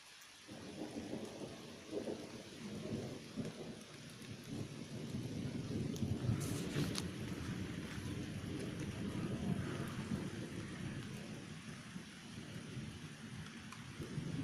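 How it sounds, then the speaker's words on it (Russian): Steady rain pours outdoors with rolling thunder rumbling low beneath it, a continuous wet hiss that swells in the middle and holds steady to the end, no voices present. "Дождик капает, а голуби летят."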